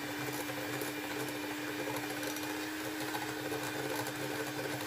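An electric beater whips chocolate whipping cream for cupcake frosting, giving a steady, loud motor whir with a constant pitch that runs unbroken from start to finish.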